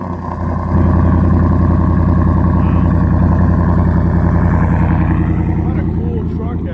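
A truck engine idles close by with a loud, steady, rumbling drone that holds evenly throughout, with no talk over it.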